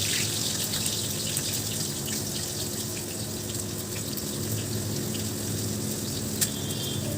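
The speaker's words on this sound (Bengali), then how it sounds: "এর মধ্যে রসুন আর কাঁচা লঙ্কা দিয়ে দিলাম।" Garlic and green chillies fry in hot oil for crispy bhindi, a steady, moderately loud, hiss-like sizzle that runs throughout with a sharp crackle near the end and no voices.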